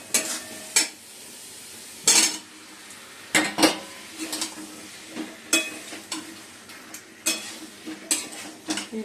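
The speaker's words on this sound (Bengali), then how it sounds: "ভালো এবার কষে দিচ্ছি।" Potatoes stir-fry with spice masala in a pan, with a utensil scraping and clanking against the metal in irregular strokes over a faint sizzle. The sound is close and there is no talking.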